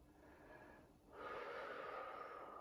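A person draws slow, deep breaths while holding a stretch in a mobility flow. A soft inhale builds to a louder, airy, sustained breath, heard close and faint with no talk over it.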